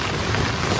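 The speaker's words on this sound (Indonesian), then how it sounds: "Hujannya terdengar terus." Steady rain pours loudly and evenly on a mountain hike, a dense close hiss with no pauses, heard alone.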